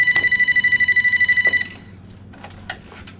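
An old telephone bell rings in a fast electronic trill for about a second and a half, loud and close, then cuts off as the receiver is lifted, leaving faint room noise and a small click.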